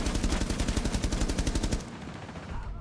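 Rapid bursts of automatic gunfire in a shooter video game, loud and closely spaced for about two seconds, then stopping abruptly and leaving quieter background sound, with no talk.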